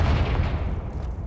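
The Confringo explosive spell in Hogwarts Legacy, a single loud, deep booming blast that fills the short moment with rumbling low-end energy.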